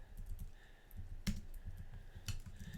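Typing on a computer keyboard, soft rapid key clicks with a couple of louder key strikes, close and quiet with no voice.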